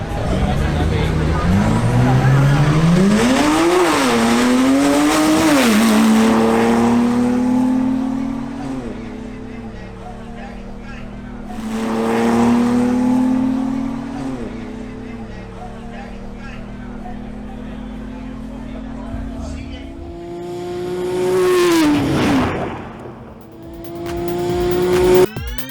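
Drag racing cars, including a BMW 535i, roaring hard under acceleration with rising engine pitch through several gear changes, a loud run, a second pass, then a final surge with tyre noise and crowd murmur.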